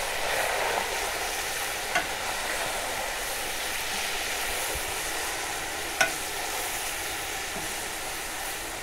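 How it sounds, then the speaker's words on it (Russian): Kazan kebab with cumin sizzles steadily in a kazan as it is stirred, with an even frying hiss throughout and two brief utensil knocks against the pot. "Теперь все перемешаем хорошенько."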